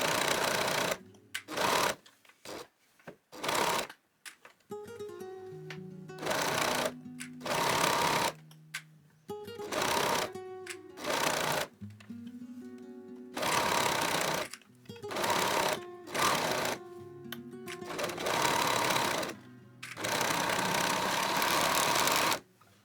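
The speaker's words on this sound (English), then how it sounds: "I will go to the serger and simply sew these on" A serger stitches the seams of a knit sweater, its motor whirring loudly and close in repeated bursts of several seconds each, with brief pauses between runs and no talking.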